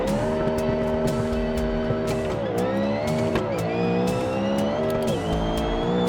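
A modified hatchback in a driving simulator revs hard through sequential gear shifts, the engine tone climbing and dropping in repeated sweeps, with tire squeal and skidding noise layered over a loud, continuous drone.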